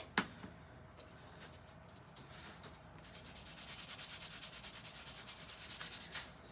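Clear paste wax is rubbed onto a plaster-painted Dollar Tree frame, making soft, close, rhythmic scrubbing strokes that grow steadier and louder toward the end, with no one speaking.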